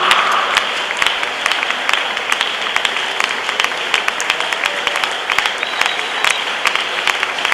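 A church congregation claps and cheers in acclamation, dense, sustained applause filling the room from start to finish, loud and close with no clear voices rising above it.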